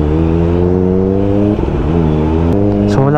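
A loud, steady inline-four engine drone from a Kawasaki ZX25R sportbike with an Ixil exhaust, strong harmonic tones, pitch dipping and rising as the throttle shifts, close by and continuous.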